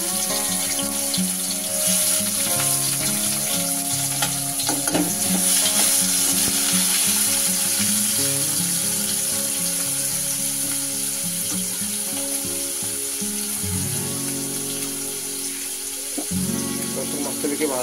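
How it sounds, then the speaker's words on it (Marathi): Chopped onion and tomato sizzle steadily in hot oil with red masala while a prawn and drumstick curry is being cooked, a continuous frying hiss that runs under low clattering sounds of kitchen work. "आता आपण त्याच्यामध्ये ॲड करूया कांदा,"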